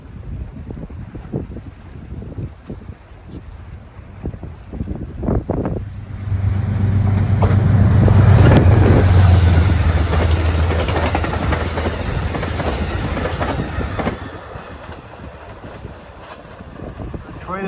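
The Ethan Allen Express passenger train rumbles past nearby on the Hudson line near Croton-Harmon, New York, its roar building, peaking and slowly fading, while wind buffets the microphone.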